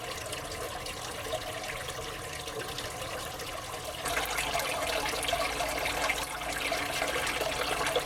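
Water flows steadily over a small Miller gold mining table fed by about eight gallons of water from buckets, a continuous moderate trickling wash that grows louder and fuller partway through.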